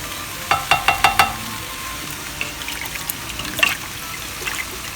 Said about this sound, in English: we are going to add our thinly sliced potatoes into the broth